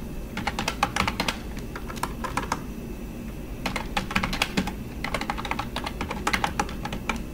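Fingers typing on a computer keyboard, a steady close patter of key clicks in several bursts with brief pauses between, over a low background hum.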